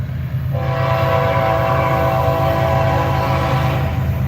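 A loud, sustained truck-mounted train horn blares close by over a deep rumbling engine, holding a steady multi-tone chord.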